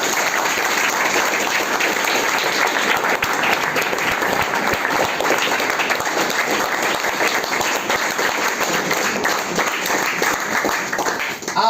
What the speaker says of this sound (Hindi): इनके जोरदार तालियां।